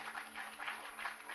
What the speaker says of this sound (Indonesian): Yang setuju berikan tepuk tangan.